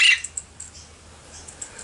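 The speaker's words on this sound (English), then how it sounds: "So that's Keshet, Princess Parrot, and that's Titan." A pet parrot gives a loud, close squawk at the start, followed by faint chirps and small calls in a quiet room.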